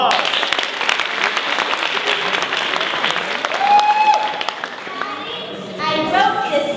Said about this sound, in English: let's show them up a warm round of applause.